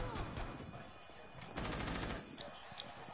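Fast, close gunshots from a video game gun firing in quick succession, with dense bursts of automatic fire and some speech faintly underneath.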